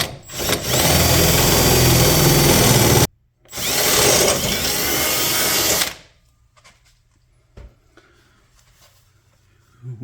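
Power drill boring a 1/2 inch hole during a Ford Raptor rear shock conversion, two loud sustained bursts of about three seconds each with a brief pause between, then near silence with faint tool handling.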